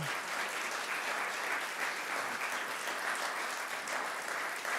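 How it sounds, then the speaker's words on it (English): Steady, fairly soft applause from an audience thanking author Kathleen DuVal after a talk on her book about Native North America, continuous dense clapping with no voices over it. "Keep going with the applause."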